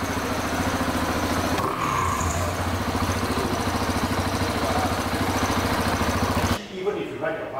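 KTM motorcycle engine running steadily after a kick start, a loud continuous mid-pitched idle that holds for about six and a half seconds and then cuts down sharply, with voices faintly underneath.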